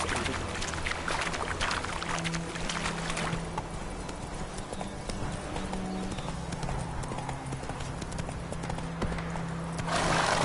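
Roach the horse galloping in The Witcher 3, a steady run of hoof clip-clops with an occasional whinny, mixed under game music and ambient sound throughout.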